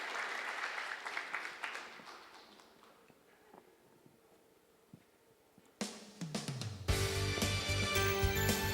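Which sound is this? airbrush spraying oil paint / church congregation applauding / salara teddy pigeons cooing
church congregation applauding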